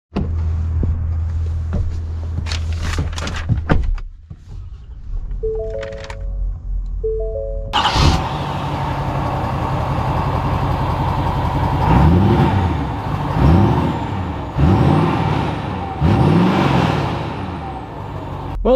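A 2021 Ford F-350 Lariat Ultimate pickup truck starts and sets off. A low idle and a few short chime tones give way to steady engine and road noise, with repeated rising surges as it accelerates through gears.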